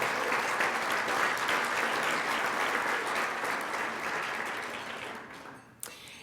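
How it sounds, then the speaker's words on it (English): Audience applause fills a luncheon hall, a dense steady clapping from a sizeable crowd that holds strong for about five seconds before thinning and fading out. "So let's give a round of applause for them and the students from Auraria."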